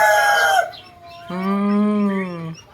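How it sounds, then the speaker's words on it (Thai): A golden bantam chicken in a wire cage gives a loud, close crowing call: a short cry, a brief pause, then a longer drawn-out harmonic note. "อันนี้คือไก่ที่อยู่ในกรงตะแกรงก็จะประมาณนี้นะครับ"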